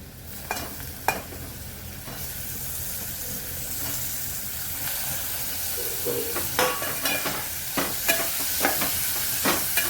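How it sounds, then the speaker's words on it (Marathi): Tomatoes added to ginger-garlic paste sizzle and sauté in a pan, a steady frying hiss broken by scraping stirs and soft clinks, close up with no talk. "यामध्ये तर मी टॅमॅटो घालून घेणार आहे."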